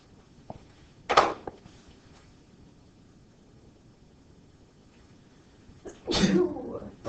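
A single sharp sneeze bursts out in a quiet classroom during a calculus lesson, followed a few seconds later by a second loud burst of noise.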